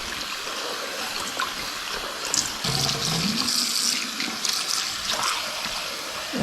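Hot water runs steadily from a tap onto a carbon steel skillet with a raw finish, a continuous splashing hiss that shifts in pitch as the stream strikes the pan, close and fairly loud with no talking.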